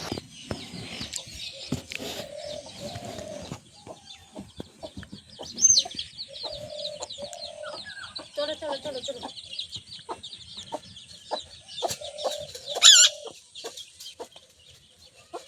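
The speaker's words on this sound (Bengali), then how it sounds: "মুরগিগুলো বের করে দিলাম" Hens clucking repeatedly after being let out in the morning on a rural homestead, a mix of near and slightly distant calls, with a woman calling to them and brief chatter in between.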